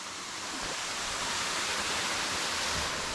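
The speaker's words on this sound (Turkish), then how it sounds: "Geldiğim şelale bu kadar arkadaşlar. Böyle bir akarsuyu var." A waterfall and its stream on Koh Phangan in Thailand rush in a dense, steady broadband roar, close and continuous with no talk.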